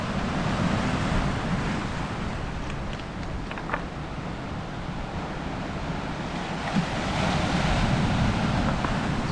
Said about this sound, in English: It's quite amazing how much I miss the sound of waves breaking on the beach.